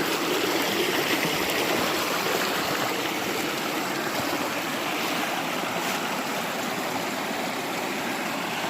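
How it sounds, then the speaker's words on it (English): A wooded river in bear and deer country flows steadily, a dense, even rush of moving water close by with no voices. "This beautiful river here,"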